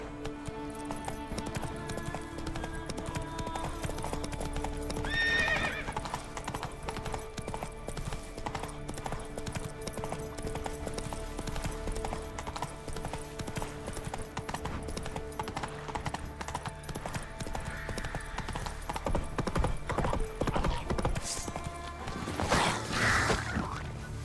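The horse Roach trots steadily through The Witcher 3, hooves clip-clopping in a continuous rhythm over a dense bed of game ambience and creaking, with a brief whinny-like burst toward the end.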